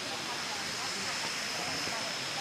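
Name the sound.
small waterfall at Erawan falls, Kanchanaburi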